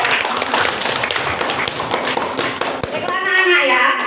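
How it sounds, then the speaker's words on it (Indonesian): Schoolchildren in a classroom clap their hands together in a busy, rapid patter, with voices talking over and after the clapping. "Tepuk tangan dulu."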